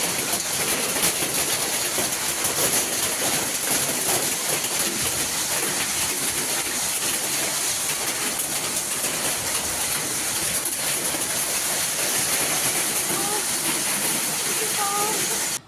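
Heavy rain falls with strong wind in Kanchipuram, a dense, loud, unbroken roar of hissing downpour filling the whole stretch.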